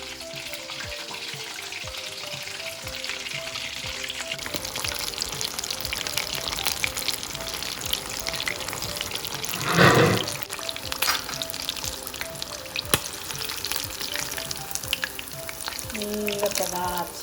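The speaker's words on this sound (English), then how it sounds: "the second fry is on high heat for just a couple of minutes" Chicken pieces deep frying in hot oil on high heat for a second fry, a steady, dense sizzle and crackle that stays loud and close throughout, with a brief louder burst of bubbling midway.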